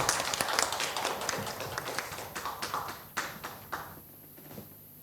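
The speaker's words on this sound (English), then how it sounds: "Please give another round of applause for every speaker." Audience applause for the speakers at an arbitration conference, a dense patter of clapping from a crowd that thins and fades over a few seconds to scattered claps.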